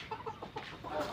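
A free-range village rooster clucks in a few quick, close bursts among a small flock of backyard chickens, with no talk.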